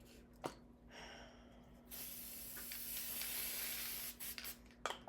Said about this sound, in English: Now let's spray another page.